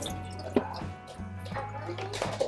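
Water drains and drips from a Levoit humidifier tank, soft irregular drops and trickles close by in a quiet room.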